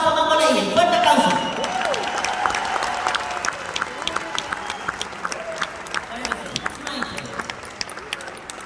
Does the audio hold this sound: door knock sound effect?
no